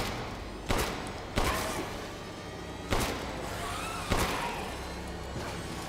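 Gunfire in Resident Evil Village rings out as four sharp, loud shots spaced a second or more apart, each with a short echoing tail over a steady low game ambience.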